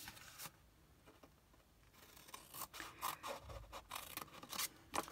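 Scissors snip through a sheet of patterned designer paper for a card box base, a few quiet crisp cuts after a near-silent start, close and faint.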